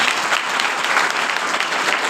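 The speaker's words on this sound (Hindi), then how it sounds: "ताली बजा सकते हो उसके लिए?" Congregation applause at a Sunday worship meeting, dense continuous clapping from a crowd, loud and even for the whole stretch.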